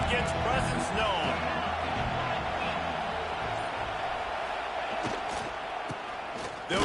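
A stadium crowd roars at an Illinois vs LSU college football game, a dense, loud wash of cheering with scattered shouts, and a commentator talks over it.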